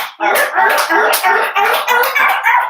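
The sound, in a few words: clapping hands and feet together like a seal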